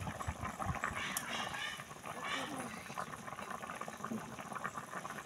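Chicken adobo bubbling in a pot simmers with a steady, busy gurgle close by, and a voice talks quietly in Filipino over the bubbling throughout.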